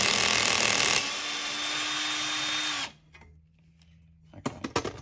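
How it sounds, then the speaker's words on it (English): A power drill whines loudly at high speed removing a screw from a stool leg base, then slows and winds down to a low hum, followed by a few sharp clicks and clatters. "Need a higher setting on the drill than that to get it out."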